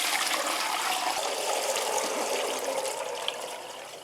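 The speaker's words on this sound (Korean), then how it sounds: "그래서 지금 국물을 따라 줄 건데요." Pickled pepper brine pours steadily from a container, a continuous close splashing and trickling of liquid that runs alone for about four seconds with no talk.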